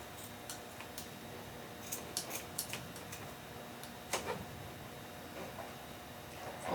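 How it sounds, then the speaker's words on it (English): Scissors snip off the ends of twisted latex balloons while a Valentine's Day balloon cone is being made: a few faint, crisp clicks spread over a quiet room with no talking. "And then I'm going to cut the ends of these off,"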